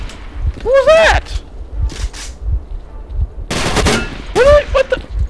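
Gunfire from a shooter in STALKER: Clear Sky, sounding as scattered sharp shots in short bursts, with someone shouting over them at several points.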